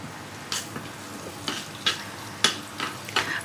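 Four or five green chillies fry in a pan, a low steady sizzle punctuated by a series of sharp crackling bursts and stirring scrapes at irregular intervals.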